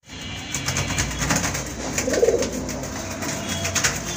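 A pair of silver-coloured Rajgolla pigeons with red bars coo softly and steadily nearby, low murmuring calls set against a constant background hiss.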